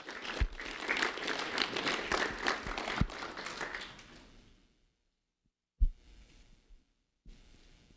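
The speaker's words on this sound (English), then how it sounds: "a round of applause for Jarrell Crespo" An audience claps at a school recognition event: a dense round of applause for about four seconds that fades out, followed by silence broken by a single loud knock and a few faint scattered sounds.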